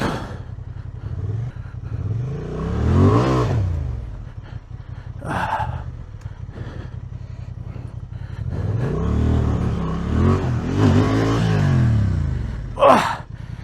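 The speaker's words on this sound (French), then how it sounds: "Premier essai d'un dérapage pour faire demi-tour." Honda Transalp 750 skidding to turn around on an off-road track, engine surging in a few loud rises with gravel scrabbling and thuds, close by and without talk.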